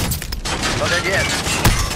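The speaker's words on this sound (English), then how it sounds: "Throwing grenade!" Grenade blast and gunfire in COD Warzone: a dense, noisy burst of battle sound with a sharp thump near the end, all under a player's excited talk.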